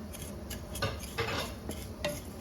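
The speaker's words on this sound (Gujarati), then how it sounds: "તો હવે આપણે આને ઘીમાં 1 થી 2 મિનિટ જ શેકવાની છે।" Vermicelli roasting in ghee for sevaiya kheer is stirred with a metal spoon, giving a quick series of close scraping clinks against the pan over a faint steady sizzle, no voices.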